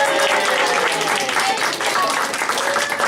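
A small group claps warmly for a child taking a bow at a home storytelling performance, continuous close clapping with voices and cheers mixed in.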